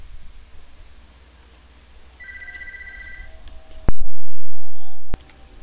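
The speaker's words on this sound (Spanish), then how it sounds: "Teléfono." A telephone rings in a short burst of bell-like electronic tones, followed by two sharp loud beeps, heard during a Wabbits island mission in a video game.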